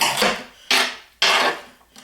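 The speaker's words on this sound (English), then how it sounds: "do a quick chop. Yes, it's loud." A knife chops leftover scraps of cabbage, carrot and onion on a board, giving three loud, close, broadband strokes spaced about half a second apart and then a softer fourth, with no talking.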